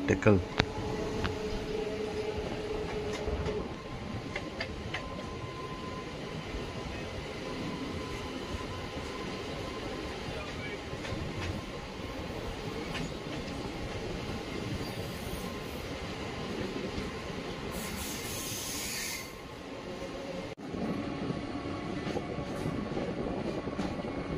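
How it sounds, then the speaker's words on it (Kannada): A MEMU express train rumbles past close by near Tekal, Karnataka, with steady clattering and wheel noise, a continuous rolling din from start to finish. "ಬಂಗಾರಪೇಟೆಯಿಂದ ವೈಟ್ಫೀಲ್ಡ್ಗೆ ಹೋಗೋ ಮೆಮೊ ಎಕ್ಸ್ಪ್ರೆಸ್ ಕ್ರಾಸ್ ಓವರ್ ಆಗ್ತಿದೆ ಇಲ್ಲಿ ಟೇಕಲ್ ಹತ್ರ."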